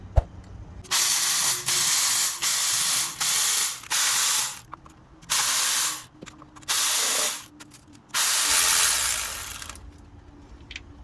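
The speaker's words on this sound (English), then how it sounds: "Now we gotta remove the bolts on the outside" A ratchet wrench loosening valve cover bolts on an Infiniti 3.5 V6 DE engine, loud and close, clicking in repeated bursts of one to two seconds separated by short pauses, with a longer final run.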